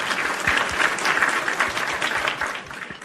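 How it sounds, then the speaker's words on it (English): A short burst of audience applause, steady and fairly close, with a few sharper individual claps standing out before it tapers off. "Round of applause"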